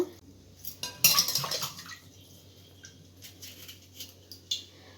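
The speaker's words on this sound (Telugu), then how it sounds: "పచ్చిమిర్చి వేస్తున్నాను" Green chilies dropped into a pot of dal while cooking: a sharp clatter of utensil against the pot, followed by faint scraping and light knocks over a quiet background, no speech.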